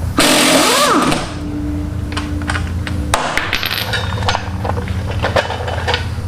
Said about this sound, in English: Kagan, show these lovely people how a Dayton wheel comes off. Like, it helps if you keep the socket on the nut